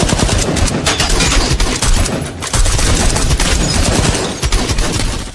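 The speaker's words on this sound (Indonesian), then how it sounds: "Sehingga baku tembak pun terjadi." Dense, loud automatic gunfire in a shootout between police and armed robbers, continuous rapid bursts that barely pause for over five seconds, with heavy booming reports and no voices.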